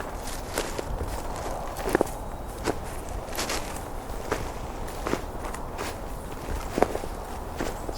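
Footsteps crunch steadily into a small woodlot on a winter bird count, each close step distinct against a quiet outdoor background with no talking.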